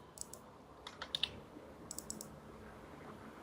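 Keys on a computer keyboard are tapped in two quick clusters of soft clicks while code is typed, close and quiet against a faint room hum.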